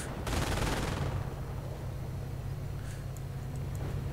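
Bursts of MG42 machine-gun fire in a video game battle, a dense rapid rattle loudest in the first second, then fading into a steady rumbling din of distant combat with faint scattered cracks.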